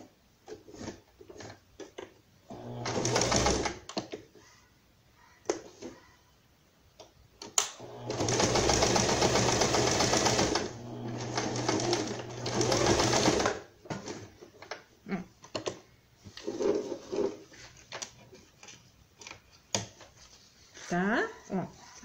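A sewing machine stitches a straight seam on the shoulder of a pet jacket in several loud, close bursts of rapid whirring. Someone talks quietly between the runs.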